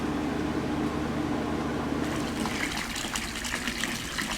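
Water gushing through household plumbing after a newly installed pump restores flow, a steady broadband rush that swells louder and brighter partway through with splashing texture, close and continuous, no voices.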